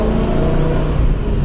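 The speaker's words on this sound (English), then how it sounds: "this car sounds sick" A BMW E92 M3 engine roars loudly and steadily up close, a dense continuous rumble with engine harmonics holding through the whole moment.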